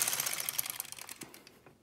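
Mechanical clicking and rattling of a knitting machine carriage (LK 150 or Brother KX 350) knitting rows of yarn for a hat top, a quick run of taps that fades out near the end, with no talk.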